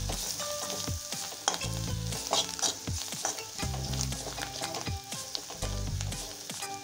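Spiced Lamboti maize chivda gets stirred in a pan with chili powder and turmeric, the spoon clinking and scraping in repeated quick strokes over a light sizzle, close and moderately quiet, with no voices.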